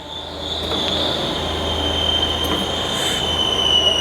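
Kent SGS-1640HD hydraulic surface grinder running with its spindle spinning, a steady loud whine and hum with a sustained high tone, close and continuous with no talk.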